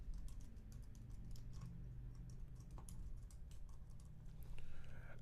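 Quiet, quick tapping of a computer keyboard as a playlist name is typed, a soft, irregular run of key clicks over a low background hum.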